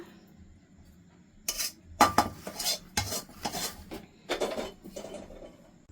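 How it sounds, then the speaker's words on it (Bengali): A metal spoon scrapes and taps on a plate while spreading pumpkin barfi, a Bengali sweet, in several clustered bursts of clinking and scraping after a quiet start, close and fairly loud. "চামচ দিয়ে ছড়িয়ে দেব প্লেটের মধ্যে"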